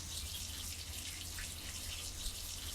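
A watering can sprinkles crops in the farming video game Game World. The water makes a soft, steady patter and hiss that runs evenly throughout.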